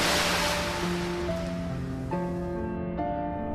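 Sea waves wash and surge continuously after a tank engine plunges off a quay into deep, cold water, a steady broad roar with tonal music layered over it and no talk.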